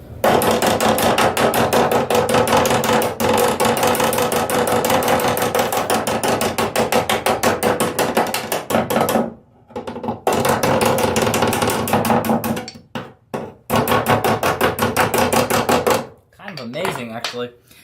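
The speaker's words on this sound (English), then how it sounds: "It's really pretty incredible how efficient that is just with the two hammers." Metal body panel on a bay window Volkswagen Westfalia camper being hammered with two hammers, a rapid, loud, continuous run of ringing metallic blows with brief pauses near the end.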